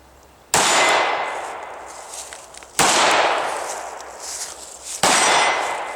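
Three loud, sharp FN Five-seveN pistol shots crack out at roughly two-second intervals, each with a bright metallic ring and lingering echo decaying between shots at an outdoor range, no talking.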